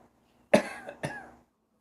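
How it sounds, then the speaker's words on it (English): Two quick, close coughs in a quiet room, sharp and moderately loud, with no talking around them. "it's so quiet you can hear a cough"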